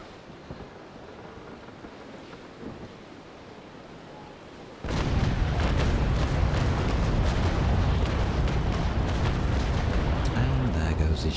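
An enemy sailing warship destroyed in the Naval Action game, a sudden loud roaring burst of explosion and cracking wood that swells into sustained rumbling noise after a quiet, windy stretch, with a voice talking.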